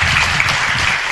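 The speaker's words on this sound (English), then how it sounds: "Please give them a round of applause." A burst of applause at a city council meeting for Toys for Tots volunteers, loud and dense, with a faint voice mixed in.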